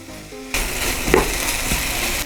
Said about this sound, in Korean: 이런 식으로 해서 감자도 볶아주도록 할게요